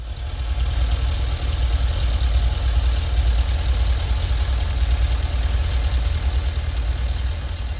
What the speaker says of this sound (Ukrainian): Послухайте краще двигун бандіта.